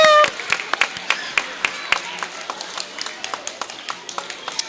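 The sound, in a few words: applause from the audience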